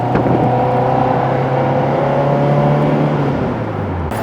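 A Toyota AE86 engine runs loud and raspy on a drive to Daikoku PA, a steady droning exhaust note heard from inside the car, easing slightly near the end.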